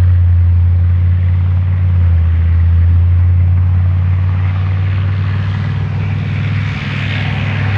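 A Pionierpanzer Dachs armored engineer vehicle, fitted with a dozer blade and excavator arm, drives past at a Bundeswehr display day in Stetten am kalten Markt: a loud, continuous low engine roar with deep rumble, steady over several seconds.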